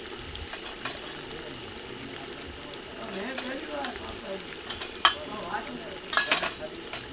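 Masala for chole, with chilli and coriander-cumin powder, is stirred in a pan over a low sizzle, with scattered scrapes and clinks of a spoon against metal and some faint background voice.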